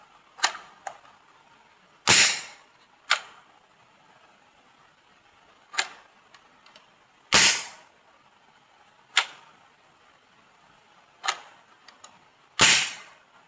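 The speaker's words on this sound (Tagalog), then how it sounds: "pag walang bala, sir, ganito yung putok niya" An unloaded gun is fired dry, giving sharp, loud snapping cracks at irregular intervals, some strong and some lighter clicks, with quiet gaps between and no voices.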